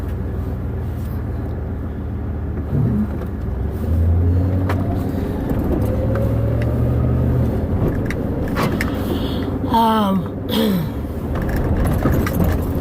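A Jeep drives along a road, its engine and tire rumble forming a steady low drone heard from inside the cabin, with a few faint rattles and a short jangle near the end.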